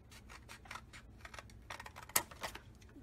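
A run of small, quick scissor snips trims a photo card down to size, soft and close, with one sharper cut near the end.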